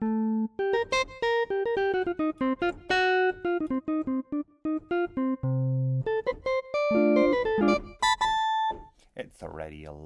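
FM synth patch in Surge with reverb set to 100%, bright bell-like tones playing a rapid, busy sequence of notes with washy tails, followed by lower sustained tones and glittery high notes.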